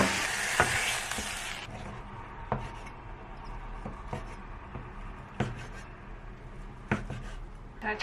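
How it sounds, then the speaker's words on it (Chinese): Chicken breast pan-frying with a splash of water added, a bright burst of sizzling at the start that fades to a quieter crackle, punctuated by intermittent spatula taps and scrapes against the pan. "鸡胸肉煎到最后的时候，加一点点水进去，会让你的鸡胸肉更嫩一点。"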